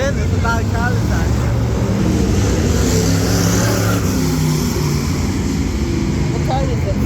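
Race cars roaring around the dirt oval at Red Cedar Speedway during a Hornet feature, a loud continuous engine drone with revving rising and falling throughout, crowd and voices mixed in underneath.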